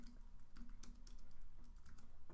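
Typing an email on a computer keyboard, a steady run of close, soft keystrokes at an even, busy pace, quiet and with no speech.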